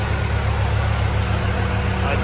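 A 1998 Honda Integra Type R engine idles with a steady low hum throughout, close and loud, with a person talking over it.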